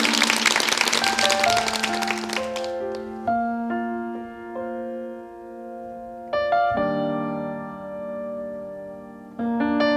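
Studio audience applause on a KBS Korean television talk show, a dense burst of clapping that fades out over about two seconds as music begins and continues alone.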